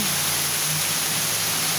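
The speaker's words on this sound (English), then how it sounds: "More heavy rain in Ancaster." Steady, dense hiss of a heavy rain downpour in Ancaster, a constant wash of water noise with no breaks or voices.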